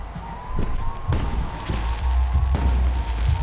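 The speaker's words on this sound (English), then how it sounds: "The noise from those fireworks should cover the sound of gunfire." Fireworks bursting during a night celebration in the spy game Alpha Protocol, a string of dull booms and cracks at irregular intervals over a low continuous rumble, moderately loud and fairly near.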